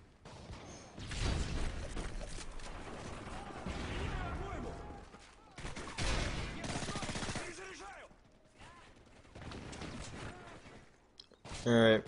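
Shotgun fire in a fast multiplayer shooter video game, with dense, loud gunshots and bursts of gunfire running through most of the clip amid other game noise, while someone talks over the action.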